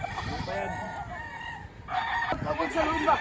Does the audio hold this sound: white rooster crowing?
yes